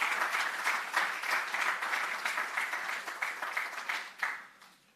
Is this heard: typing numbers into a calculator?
no